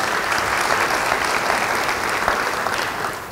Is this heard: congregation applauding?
yes